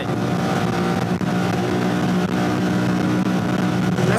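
A Honda Talon 1000X side-by-side runs on a drive through Utah's Zion Canyon wilderness, its engine a loud, steady, close drone with only slight dips and no clear break.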